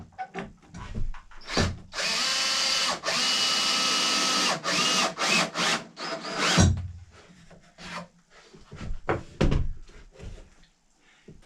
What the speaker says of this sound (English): Screwing them in.